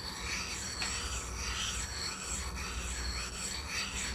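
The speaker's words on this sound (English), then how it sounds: "Now when you're lapping like this by hand, you go in a figure 8 motion." A carbide blank is hand-lapped on a cast iron lap in a figure-8 motion, giving a quiet, continuous gritty rubbing that swells and fades in smooth strokes.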